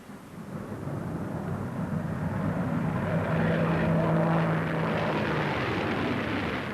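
An early jet-powered aircraft engine roaring steadily as the plane passes, a broad continuous rumble and rush that swells gradually and stays loud throughout, with a faint droning tone rising in the middle.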